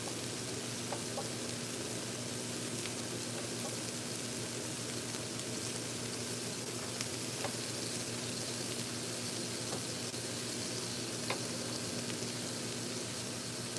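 Mushrooms frying in a pan, giving a steady, faint sizzle with a constant low hum underneath and occasional small crackles, with no talk.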